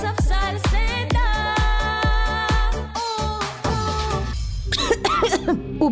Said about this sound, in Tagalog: Ubo, premang nakabara